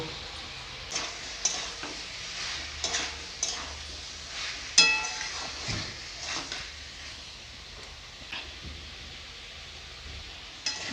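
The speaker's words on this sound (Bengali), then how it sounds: "এটাকে ভালো করে কষাবো স্বাদ মতন লবণ দিয়ে দিব" Sea fish curry with cauliflower and salt is sautéed in a pan, giving a soft continuous sizzle broken by scattered scrapes and clinks of the spoon stirring against the pan.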